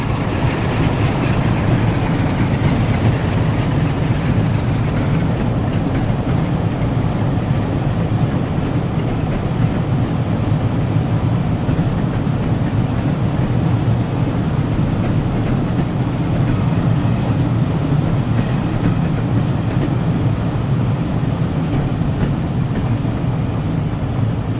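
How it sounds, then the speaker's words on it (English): Class 47 diesel locomotive 47457 Pennine pulling away with a train bound for Leeds, a loud, steady engine roar with low rumble and faint rail clatter held for the whole stretch. "47457 Pennine is seen departing with a train bound for Leeds"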